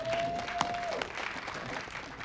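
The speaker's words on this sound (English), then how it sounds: "Give yourself a round of applause." Applause for school staff after the first school day, heard as a dense, even patter of many hands at steady, moderate loudness, crossed briefly by a thin tone near the start.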